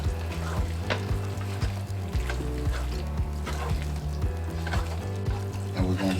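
Tex-Mex casserole filling with cheese being stirred and fried in a pan, a steady close sizzle broken by rhythmic scraping strokes of the spoon throughout.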